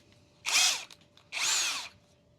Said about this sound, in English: power drill, cordless power drill